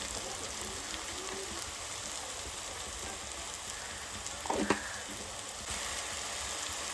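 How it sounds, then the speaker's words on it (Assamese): Ginger garlic paste frying in a pan gives a steady, dense sizzle throughout, with a brief clatter of a utensil about two-thirds of the way in. No voices. "এতিয়া অলপ সময় এনেকৈ ভাজি ল'ম, আদা নহৰু কেঁচা গোন্ধটো যোৱালৈকে"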